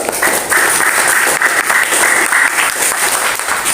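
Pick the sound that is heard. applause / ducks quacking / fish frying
applause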